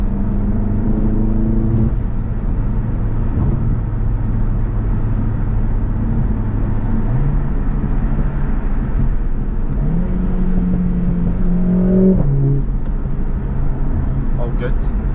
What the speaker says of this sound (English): I'm just going to do a wee bit of normal driving with the new springs.